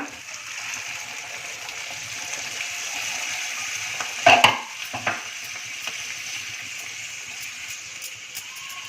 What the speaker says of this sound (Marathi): यामध्ये आता वाटाणे घालूया.